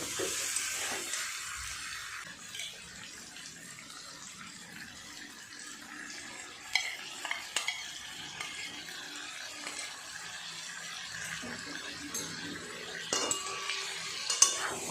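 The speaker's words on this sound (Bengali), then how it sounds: "খুব ভালো করে মশলার সাথে চিকেনটাকে মিশিয়ে নেব।" Chicken mixed with fried spices and whisked yogurt is stirred in a pan, a steady close scraping and gentle sizzle that runs throughout with small clinks of the utensil, and no voices.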